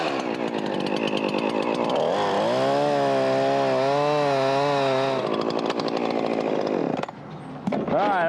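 A chainsaw cuts a face notch into a tree, close and loud, its engine pitch rising and wavering as it bites into the wood, then briefly dropping off near the end.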